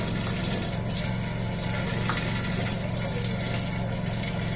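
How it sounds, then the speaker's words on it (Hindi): Tap water running steadily into a sink while goat meat is washed in a home kitchen, a loud continuous splashing rush that lasts throughout with no talk. "तो सबसे पहले कट्टे के गोश्त को धो लेते हैं।"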